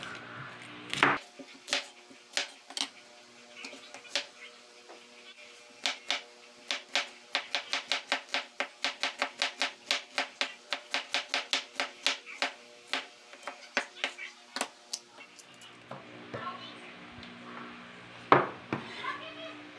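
Garlic and onion chopped by knife on a cutting board, sharp close knocks that begin spaced out, then speed into a fast steady run of rapid chops before slowing; a voice speaks briefly near the end.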